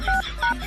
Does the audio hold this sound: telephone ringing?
yes